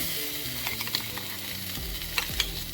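Raw turmeric paste roasts in a half teaspoon of ghee with a steady close sizzle, broken by a few sharp clicks of a spoon stirring against the pan.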